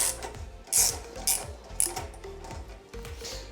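A hand ratchet clicks in short rhythmic bursts while loosening bolts to remove the exhaust from an Aprilia Tuono HP Corse motorcycle, close up with no talking.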